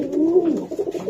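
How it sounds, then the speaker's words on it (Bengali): A pair of pigeons, one male and one female, cooing close by: a loud, warbling coo that rises and falls, followed by softer pulsing coos, with no talking. "দর্শক আমি দেখাই দিলাম নর মাদি, একদম বেস্ট কোয়ালিটির কবুতর"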